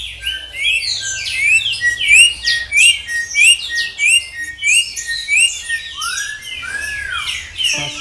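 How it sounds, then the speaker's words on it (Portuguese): Song of the Saudade bird, a yellow-and-black songbird resembling a troupial: a run of bright, rising whistled chirps repeated in steady succession, close and clear, ending with a few looser sweeping notes. "Este canto é de um pássaro chamado Saudade"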